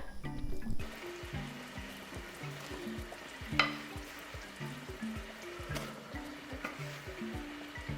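Almonds being stirred into boiling sugar syrup in a pan for Catalan panellets, giving a steady bubbling, sizzling simmer with irregular scraping stir strokes and a sharper clink partway through.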